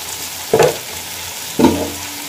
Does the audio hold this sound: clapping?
no